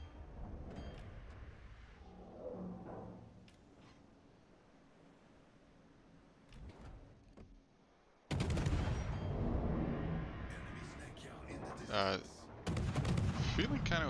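Naval ship guns firing in a warship battle video game, a quieter stretch of distant booms giving way to loud, sustained bursts of heavy gunfire in the second half, with brief gaps between salvos.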